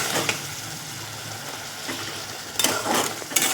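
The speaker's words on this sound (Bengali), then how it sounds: "দিয়ে আবারও ভালো করে নেড়ে নেবো।" Spices and chili powder are stirred in a pan with frying mola fish and potato curry, a steady close sizzle broken by several scraping strokes of the spoon against the pan.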